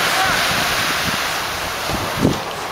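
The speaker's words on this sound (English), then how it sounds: "We're on the beach, obviously, and it's really windy." Strong wind on a beach buffets the microphone in a constant rumbling roar, with surf blending underneath and a brief gust swell near the end.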